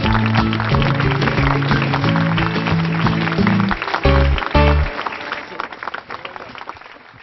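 Audience applause at an award ceremony as a winner is honoured: steady clapping from a crowd over loud music that cuts out partway, then scattered claps trailing off.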